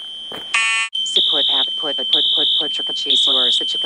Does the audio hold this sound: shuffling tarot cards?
no